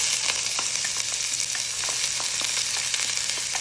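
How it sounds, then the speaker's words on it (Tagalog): Onion fries in olive oil with a bright, steady close-up sizzle, crackling evenly while a utensil stirs it through the pan with soft intermittent scrapes. "نقلب البصل شوي بس لحد ما يدبل، بدون ما يتغير لونه بس يدبل شوي."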